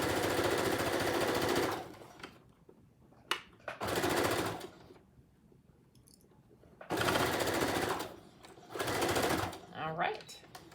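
A sewing machine top-stitches a fabric face mask in several rapid, loud whirring bursts of a second or two each, separated by pauses with faint handling noise.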